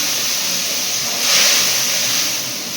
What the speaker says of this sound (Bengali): এবার দিয়ে দিলাম মশলাটা কিন্তু ভালো করে ভাজতে হইব